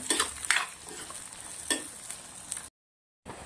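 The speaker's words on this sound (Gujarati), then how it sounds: "ડુંગળી મરચાં આપણે પહેલાં શેકી લઈશું સરસ મજાના" Finely chopped onions and green chilies sautéing in a pan, a soft steady sizzle broken by a few scraping stirs, then a brief cut to silence before the sizzle resumes.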